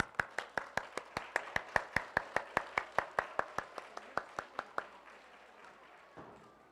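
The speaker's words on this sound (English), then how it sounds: "One more round of applause for these guys." Sharp, evenly spaced hand claps in a steady rhythm at a school honor roll assembly, a couple dozen in a row, then they stop and the room falls quiet.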